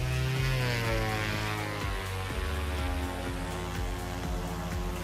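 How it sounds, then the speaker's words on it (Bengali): A small electric motor spins at high speed under servo-tester control, driving a fan: a steady, loud electric whine and hum that climbs in pitch at first, then holds. "মোটরটা কিন্তু আমাদের ঘুরতেছে গাইস। সো এটা কিন্তু স্পিড কন্ট্রোল করা যাবে, এটা এখন প্রচন্ড স্পিডে ঘুরতেছে"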